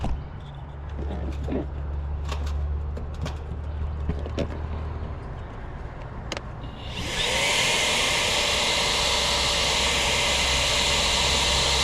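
After a few quiet clicks over a low hum, a vacuum motor switches on and runs with a steady loud whooshing roar.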